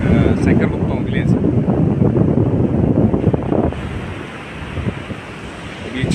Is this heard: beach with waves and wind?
yes